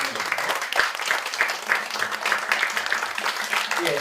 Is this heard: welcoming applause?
yes